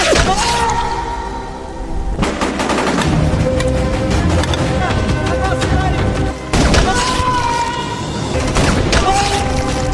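Gunfire in a war film scene with Iraqi soldiers and a sniper: loud, dense bursts of shots and booms run almost continuously, mixed with a dramatic music score and other film sound.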